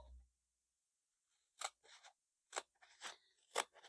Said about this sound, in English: Scissors. I'm going to cut this one in half.